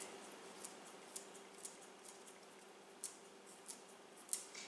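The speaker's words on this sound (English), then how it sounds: "I'm just going to use kitchen shears to cut little pieces of sage into the squash." Kitchen shears snip sage leaves into butternut squash, producing faint, sharp individual clicks spaced irregularly over a quiet room hum.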